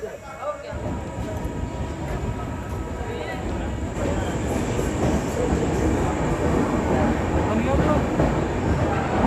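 A Neelanchal Express train starts moving out of a station, its low rumble and rattling wheels building gradually in loudness, heard from inside over a steady background hum.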